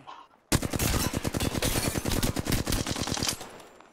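Rapid automatic gunfire rattles loudly in a video game, a dense burst of sharp shots bursting out after a quiet moment and running continuously for several seconds before tapering off.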